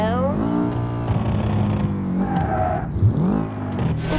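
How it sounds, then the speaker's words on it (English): Subaru car engine in the BeamNG driving game revving up and shifting, heard as a loud close engine drone rising and falling in pitch, with a brief skid near the end. "this car sounds a million times better though than the Sunburst"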